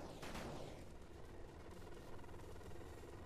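Helicopters in the video game 8-Bit Armies whir with a steady rotor drone, mixed with bursts of gunfire and explosions in a busy battle soundscape, no one talking.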